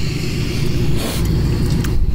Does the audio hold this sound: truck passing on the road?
yes